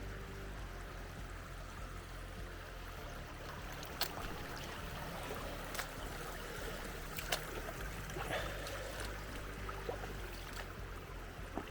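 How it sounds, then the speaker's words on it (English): A mountain creek in the Strawberry Mountain Wilderness rushes and splashes steadily up close as a hiker wades across, with sharp sloshing footfalls breaking through the continuous flow. "I'm going to cross the creek here actually."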